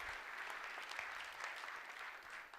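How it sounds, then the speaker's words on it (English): A community chamber-of-commerce event audience gives a sustained round of applause for a sponsor, a steady dense clapping crowd heard fairly quietly and at a distance. "let's give them a round of applause"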